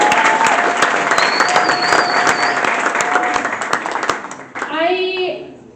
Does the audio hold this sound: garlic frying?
no